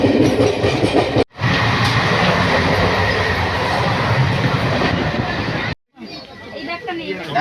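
A train rumbles and clatters steadily as it rolls into Bardhaman station, loud and continuous, with faint voices chattering beneath.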